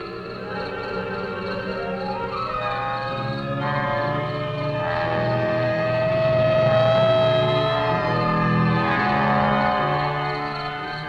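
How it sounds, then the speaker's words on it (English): Police car siren in a 1965 film, a steady wailing tone rising and falling continuously over a low engine rumble, moderately close and swelling slightly louder toward the middle before easing back. "Police car."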